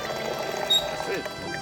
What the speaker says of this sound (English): Now you see this water is going down very clearly.